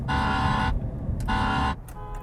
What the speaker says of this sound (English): what does the horn sound like?